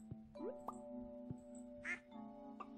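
A duck quacks on a farm in the video game Stardew Valley. A single short quack sounds midway among soft, steady game music tones and light clicks.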